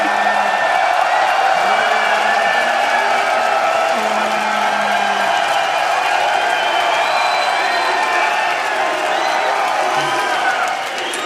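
A large crowd at a 2014 EU LCS League of Legends match claps and cheers after a thrilling game, a dense, sustained wash of applause filling the space, with voices talking over it.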